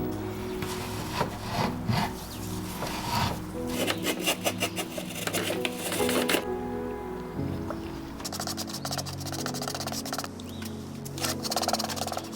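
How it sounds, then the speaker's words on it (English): An old painted antique wooden dresser being sanded during restoration, with uneven bursts of close scratchy rubbing and scraping that pause and restart, fairly loud, with no talk. "Here are most of the tools I plan to use to sand this old dresser, in preparation for the new finishes."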